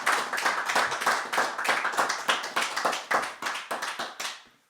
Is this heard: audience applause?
yes